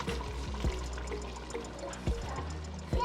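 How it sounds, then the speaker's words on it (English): Water being poured into a pot of meat while making peanut butter soup, a short splashing pour with a few gurgling bursts, close and fairly quiet. "I decide to add water in this one, then put it in the meat"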